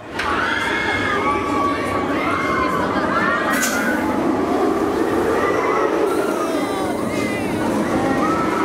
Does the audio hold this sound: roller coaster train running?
yes